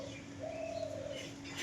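Performing pigeons coo faintly in a single soft, drawn-out call against a quiet, steady background hum, with no one talking.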